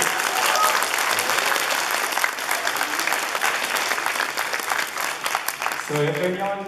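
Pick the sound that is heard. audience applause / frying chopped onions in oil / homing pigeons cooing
audience applause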